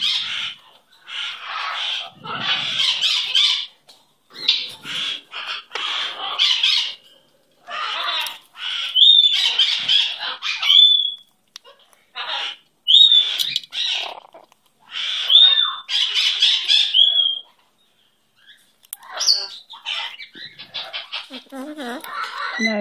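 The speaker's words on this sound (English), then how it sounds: "What a good bird you are." A pet bird squawks and chirps in bursts, with bright repeated calls and short pauses, close by and fairly loud, with no talking.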